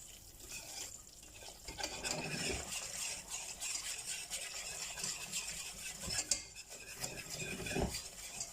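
A spoon or whisk scrapes and stirs thick Danish brown sauce in a pan, producing steady close scraping and swishing with occasional clinks of utensil against metal.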